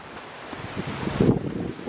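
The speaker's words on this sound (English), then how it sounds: "The wind's blowing down." Strong gusts of roughly 30 mph wind buffet the microphone in a steady, roaring rush that swells briefly louder near the end.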